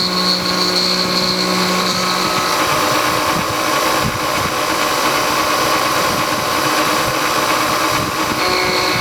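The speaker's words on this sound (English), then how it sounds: "That cutter almost sounds like it needs to go into the sharpening barrel too." A milling cutter machining a Kerzel cylinder head makes a loud, continuous metallic whine and grinding with steady tonal hums, close and unbroken throughout.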